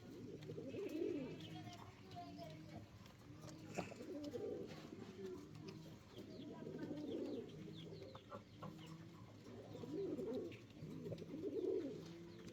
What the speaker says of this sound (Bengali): দেখেন, একটা দেখতে পাচ্ছেন হোয়াইট টপ বখরার টপ কোয়ালিটি একটা মেল কবুতরটা, মল্টিং চলতেছে।